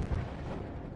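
A deep, booming explosion rolls out in the video game Battlefield 1, a heavy low-frequency blast that swells early and then lingers as a dense rumbling roar for the rest of the second.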